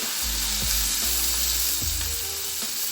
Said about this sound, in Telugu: ఇప్పుడు 2 ఉల్లిపాయలు వేసుకుందాం